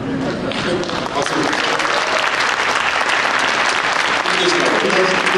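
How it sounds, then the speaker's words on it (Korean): Sustained, loud clapping from a large crowd fills the whole stretch, dense and steady from start to finish. "박수."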